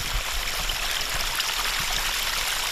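Water flows steadily from a spring near a house, a close, continuous burbling stream with a soft hiss and low gurgles, alone without voices.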